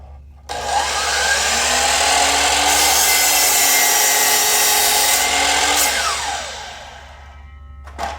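A compound sliding miter saw spins up and cuts through a piece of wood, a loud sustained whine with a rising then falling pitch as the blade engages and winds down, heard alone with no talk.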